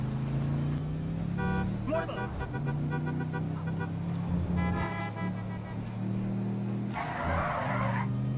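A car in the video game GTA 5 drives and skids, with tires squealing in long screeches over a steady engine drone and game sounds.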